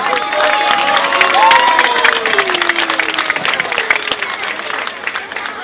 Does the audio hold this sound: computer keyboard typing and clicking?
no